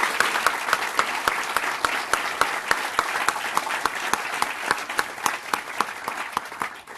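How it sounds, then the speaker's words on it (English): An audience applauds a group of 2018 Knight Wallace journalism fellows at a university lecture, with steady, dense clapping from a room full of people sustained throughout and no talk over it. "join me in a round of applause for our 2018 Knight Wallace Fellows"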